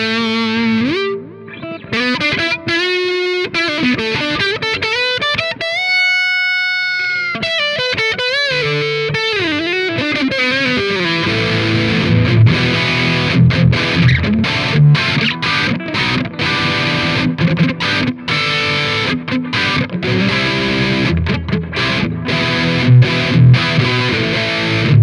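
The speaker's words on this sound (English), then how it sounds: "it's so much distortion, and this amp is like compressing so much" Metal guitar runs through an AmpliTube 5 amp simulation with heavy distortion and compression. It opens with sustained, bending, effect-laden notes, then turns into loud, dense, chugging riffs that play continuously with no voices.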